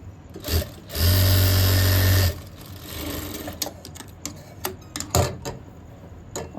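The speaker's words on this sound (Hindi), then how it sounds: "जेब का ऊपर वाला हिस्सा तैयार कर लेंगे सिलाई लगा करके।" One close, loud burst of a sewing machine stitching a folded pocket strip on a boy's cord set, followed by quieter ticks and clicks of fabric handling and machine adjustment.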